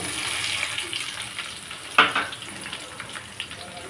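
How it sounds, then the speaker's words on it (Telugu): Onions frying in oil in a pan for mutton keema, a moderate steady sizzle with a sharp clink of a utensil partway through and a few light stirring knocks. "ఆనియన్స్ కూడా చూడండి బాగా వేగుతూ ఉన్నాయి"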